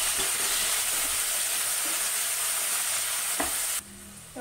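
Onions frying in a pan for vermicelli upma, a steady close sizzle with an occasional light stir or tap, quieting abruptly near the end, no talking.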